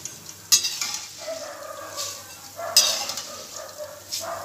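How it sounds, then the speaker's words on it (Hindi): Whole moong dal fries in hot oil for namkeen, a soft sizzle broken by a few sharp scrapes and clinks as a spoon stirs and lifts the lentils out. "अब हमारे मूंग फ्राई हो चुके हैं, अब इन्हें हमें निकालना है।"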